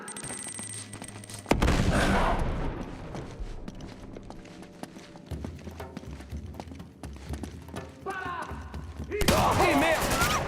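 Uncharted 2: Among Thieves combat, a heavy grenade blast followed by rattling bursts of gunfire and thuds, with a voice shouting over the fighting.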